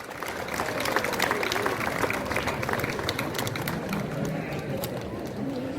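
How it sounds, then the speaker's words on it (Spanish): A crowd applauds the mayor at a civic ceremony honouring the insurgent Serafín Olarte, with a sustained, fairly even burst of clapping and a murmur of voices beneath it. "pido un aplauso para el alcalde, el maestro Eric Domínguez Vázquez"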